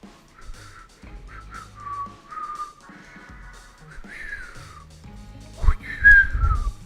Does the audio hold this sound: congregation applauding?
no